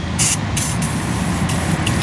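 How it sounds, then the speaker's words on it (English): Bursts of WD-40 aerosol spray hiss in short blasts over a steady low rumble, with a longer spray near the end, on a bass boat's steering. "So I'm putting WD-40 on it right now,"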